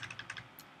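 Quiet keystrokes on a computer keyboard while writing Bootstrap code, a short run of light clicks in uneven rhythm with a slightly louder tap at the end, no voices.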